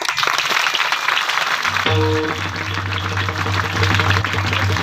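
An audience at a kirtan claps in a dense wash of applause, joined partway through by a loud sustained tonal drone from the stage.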